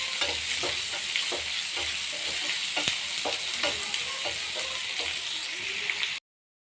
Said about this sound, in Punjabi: ਤੁਸੀਂ ਇਹਨੂੰ ਪਿਆਜ਼ ਨੂੰ ਵੀ ਚੰਗੀ ਤਰ੍ਹਾਂ ਭੁੰਨ ਲੈਣਾ